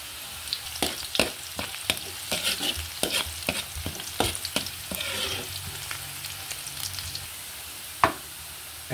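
Garlic frying in a pan for turkey adobo, a steady sizzle broken by repeated sharp clicks and scrapes of a utensil stirring against the pan, with one louder knock near the end.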